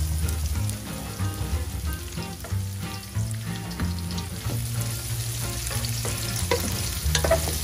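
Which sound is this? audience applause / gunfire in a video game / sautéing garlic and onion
sautéing garlic and onion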